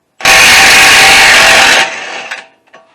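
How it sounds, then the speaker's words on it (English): A Milwaukee stubby impact wrench hammering loose a 32 mm axle nut on a 2005 Honda Accord, one loud close sustained burst of rattling impacts that cuts off abruptly, followed by a few faint metallic clinks. "I'm not sure if my Milwaukee stubby will get it off"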